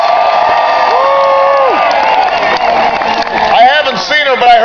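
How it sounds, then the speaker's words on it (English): A political rally crowd cheers, whoops and applauds loudly and continuously, with shouting voices rising toward the end. "So please give a big round of applause to your own Senator Bill Nelson and his wonderful wife, Grace Nelson."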